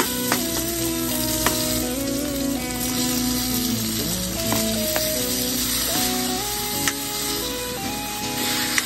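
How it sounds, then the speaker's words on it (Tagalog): Chopped onion, tomato and garlic sauté in hot oil in a pan, making a steady, loud sizzle with occasional stirring clicks. A melodic tune plays in the background throughout. "mantika para makapagisa na tayo dito ng sibuyas, kamatis at bawang."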